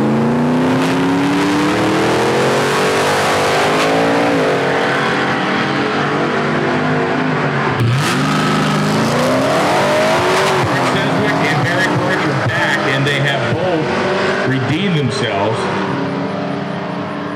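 A race car with a K&N air filter and the exhaust cutout removed accelerates hard on a quarter-mile run, engine loud and rising through repeated gear shifts, with a voice talking over it.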